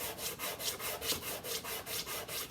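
Sandpaper rubs back and forth over a steel hammer head to remove mill scale, giving a rhythmic, raspy scraping of about a dozen even strokes, close but fairly quiet, with no talk.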